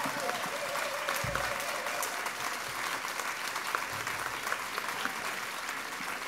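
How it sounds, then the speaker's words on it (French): Sustained applause from a tango and flamenco show audience greeting a young bandoneon player, a dense even wash of clapping heard from a distance, holding steady throughout with no voices on top. "On l'applaudit."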